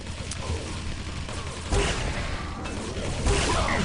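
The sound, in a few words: railgun shots in Quake Live video game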